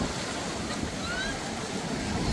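Sea waves wash onto the beach at Puri in a steady, broadband roar with wind buffeting the microphone, heard throughout with no clear separate breaks.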